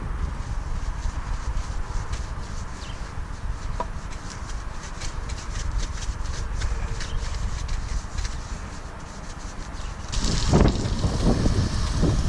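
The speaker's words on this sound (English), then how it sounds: "It's so windy." Strong wind buffets the microphone with a constant roaring rumble, growing gustier and louder near the end, with no voices.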